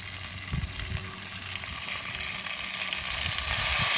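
Oil sizzles in a pot over a campfire stove at a wilderness lake campsite, ready for browning pot roast, with a steady bright hiss that slowly grows louder and a few low knocks and clunks of cookware, with no voices.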